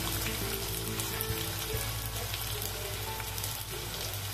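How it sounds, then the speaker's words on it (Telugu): Sliced onions frying in two tablespoons of oil in a kadai for chicken kurma, a steady close sizzle and crackle filling the clip without pause. "ఇప్పుడు దీనిలో స్లైస్ చేసుకున్న ఆనియన్స్ వేసుకుందాం."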